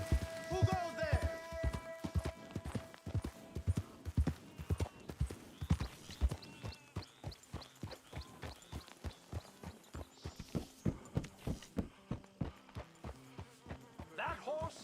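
Horse hooves clip-clop steadily in the Red Dead Redemption 2 video game, a continuous rhythmic trot of fairly quiet, evenly spaced thuds, with a brief snort near the start and a sharper sound at the end.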